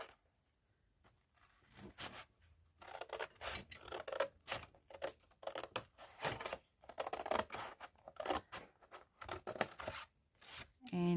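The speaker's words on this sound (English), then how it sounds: "I'm just going to like cut a piece of this off, one of the flaps" Scissors snip and tear through a cardboard box flap at close range, a steady run of short crisp cuts with rustling and scraping handling in between.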